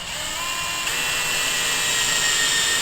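Power drill boring steadily through the plastic trunk panel of an A90 Toyota Supra: a continuous high, whining buzz, close and loud, unbroken for the whole stretch.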